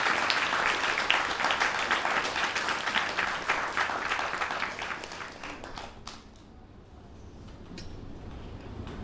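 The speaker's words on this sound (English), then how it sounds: "they deserve a big round of applause for this" An audience at a live stage event claps in sustained applause that fades and thins toward the end, leaving a few scattered claps.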